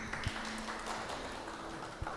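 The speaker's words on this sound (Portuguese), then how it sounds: "Palmas para eles." A church congregation applauds during a sermon, giving a continuous, fairly dense patter of hands that is steady and mid-level for its whole length, with a faint low hum underneath and no talking.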